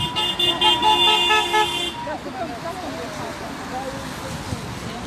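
Car horns honk in support of a rally against health measures in Lorient, with several sustained toots layered together at first before fading into steady street and traffic noise.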